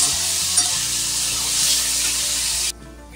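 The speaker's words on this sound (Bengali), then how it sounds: "দিয়ে এবার সুন্দর করে আস্তে আস্তে ভেজে নেব।" Flattened rice (chira) pakoras frying gently in hot oil, giving a steady broad sizzle with a faint stir near the start, cutting off sharply just before the end.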